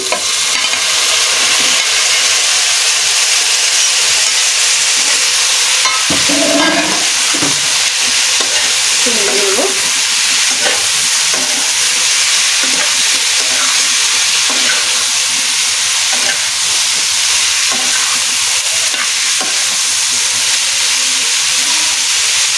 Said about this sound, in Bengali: সেই ফুলকপিগুলো দিয়ে দিচ্ছি